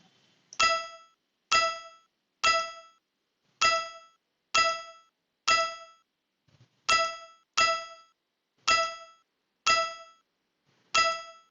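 A bright metallic bell ding from a clicker game rings out about a dozen times at a steady rhythm, each strike decaying quickly into silence, with a brief pause midway.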